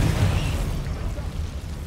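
A Confringo blasting spell bursting in Hogwarts Legacy, a dense rumbling blast that holds steady for about two seconds, no voices.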